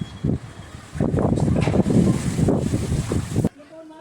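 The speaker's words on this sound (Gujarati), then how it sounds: "કેટલો પવન છે" Strong storm gusts buffet the microphone in loud, uneven bursts, roaring then dropping away abruptly near the end.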